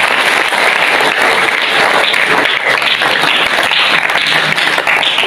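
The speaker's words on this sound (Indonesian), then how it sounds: "Tepuk tangan untuk mereka semua." Loud, dense audience applause honoring teachers at a school award ceremony in Mojokerto, a continuous roar of many hands clapping close by with no break.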